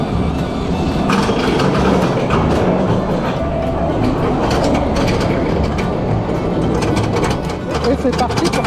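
An SMS El Loco roller coaster, Timber Drop at Fraispertuis City, roars along its track with a loud, continuous rumbling and rattling, muffled voices mixed in throughout.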